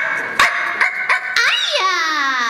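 A voice actor imitates a dog barking and whimpering, playing the Welsh corgi from Cowboy Bebop at a convention panel. A few short yips are followed by a long rising and falling whine, close and clear.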